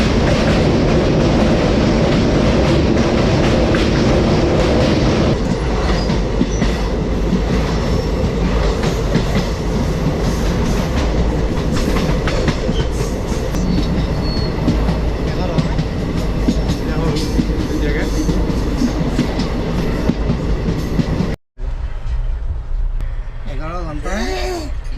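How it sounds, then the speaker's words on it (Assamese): A late-running passenger train crosses a bridge over the Ganges near Patna. A loud, continuous close-up rumble of wheels and carriages runs throughout, with a brief cut-out near the end. "11 ঘণ্টা লেট যিখন ট্ৰেইনত আহিছোঁ আমি"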